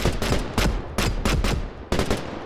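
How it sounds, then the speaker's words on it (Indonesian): A rapid series of loud gunshots from a pre-dawn execution firing squad cracks out in uneven bursts, each blast sharp and booming, echoing with little pause between them. "serentetan tembakan memecahkan kesunyian pada dini hari"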